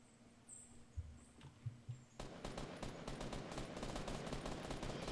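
Gunfire in a Fortnite squad match around a house at Greasy Grove, with a few scattered low thumps early on, then a rapid, steady burst of crackling shots filling the rest of the moment.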